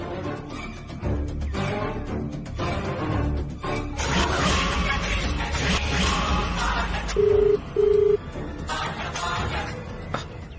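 An unanswered phone call gives two short ringback tones, heard over louder background music in a TV drama scene.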